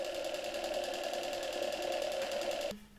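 Old Zelmer ZZSD type 300 vacuum cleaner motor running slowly on 12 V after a short-circuit repair, a steady close mechanical whine with rhythmic pulsing that cuts off near the end, no talk.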